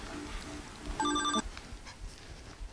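A telephone rings with an incoming call, one short bright electronic burst of ringing that stands alone over a quiet room.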